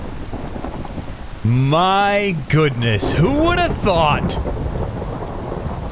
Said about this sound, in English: Rain on the FoolCraft server.